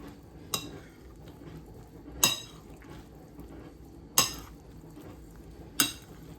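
A spoon stirring turkey stuffing mixed with chicken broth in a bowl, four distinct clinks against the dish spaced about two seconds apart over a soft wet background.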